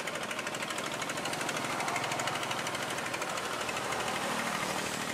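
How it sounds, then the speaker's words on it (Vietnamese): A motorized hand tiller runs steadily and loudly throughout, a dense rapid engine chatter with continuous vibration and no pauses. "Ô vậy là cái dạng cái máy là sới này"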